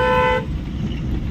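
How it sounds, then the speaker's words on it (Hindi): A loud car horn blares briefly at the start, then cuts off, leaving road and engine noise. "जिस गाड़ी का हॉर्न है ना वो भाई खतरनाक है।"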